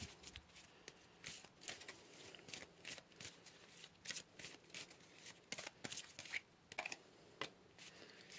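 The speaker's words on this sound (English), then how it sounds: "So let's pull some more cards here." Tarot cards being shuffled by hand, a string of crisp riffling flutters and soft slaps in irregular bursts, close and quiet with no talking.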